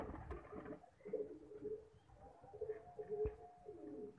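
Sialkoti breeder pigeons, a confirmed pair kept in Lahore, coo softly and repeatedly at close range, with low throaty calls in a steady murmur.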